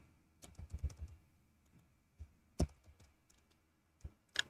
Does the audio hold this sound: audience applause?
no